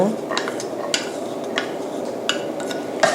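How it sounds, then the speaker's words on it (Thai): Sliced galangal and ginger dry-roasting in a pan for miang sauce: steady soft rustling and scraping as the pieces are stirred, with a few sharper clicks of a utensil against the pan, close up. "เราจะคั่วไปเรื่อย ๆนะคะ จนกระทั่งใช้ไฟอ่อนในการคั่วนะคะ"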